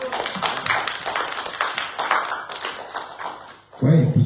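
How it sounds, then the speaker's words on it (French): An audience at a French press conference gives a speaker a round of applause, a steady patter of clapping lasting several seconds before a voice cuts in. "Vous pouvez l'applaudir,"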